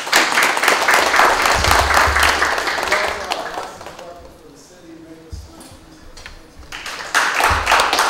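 Audience at a community gathering applauds an alderman: a burst of close, crisp clapping for about three seconds, fading briefly, then a second swell near the end, with some talk underneath.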